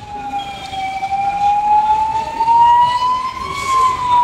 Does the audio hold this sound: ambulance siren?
yes